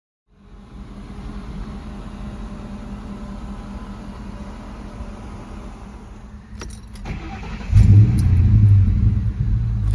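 Ford Mustang GT engine idling with a steady low rumble for several seconds, then a louder, deeper surge near the end as the engine note rises, heard close with no talking.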